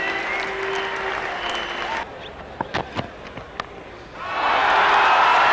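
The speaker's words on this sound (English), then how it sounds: "Michael Slater leading the applause from the rooms." Cricket crowd at a 1995 West Indies versus Australia Test match applauds Steve Waugh reaching 150, a strong burst of clapping that fades to a lull with a few sharp knocks, then swells loudly again.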